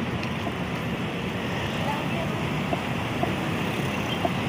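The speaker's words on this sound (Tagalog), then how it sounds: "Masyadong traffic po." Heavy road traffic in Davao City makes a dense, steady roar of engines and tyres that stays loud and unbroken throughout, with faint clicks and bumps.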